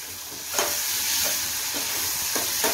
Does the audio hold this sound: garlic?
yes